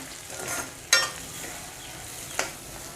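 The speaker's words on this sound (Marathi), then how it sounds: "मी ह्यामध्ये एक चमचा मसाला घालून घेते आपल्याला एक चमचा हळद घालून घ्यायचे आणि व्यवस्थित असं परतून घेऊया" Sambar masala and turmeric fry in a pan with a soft steady sizzle, broken by two sharp scrapes of a spoon stirring the spices.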